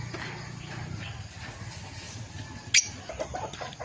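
Chickens with 30-day-old young and newly hatched chicks cluck and peep softly in a continuous busy background, with one sharper chirp standing out partway through.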